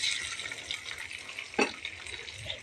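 Chopped onion fries in hot oil in a wok, a steady hissing sizzle with a brief bright clink partway through, close and moderately loud with no voices.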